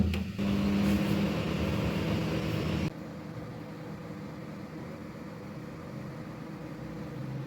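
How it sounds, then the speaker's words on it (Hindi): A microwave oven hums steadily while warming food, a loud even drone that drops to a softer, lower hum partway through, with no talking. "अब मैं करती हूँ इसको गरम, ओवन के अंदर रखती हूँ।"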